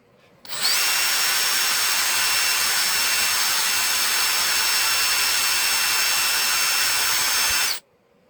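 Power drill with a small bit boring through an aluminum can for a stove build, a steady high-pitched whine running about seven seconds before cutting off abruptly.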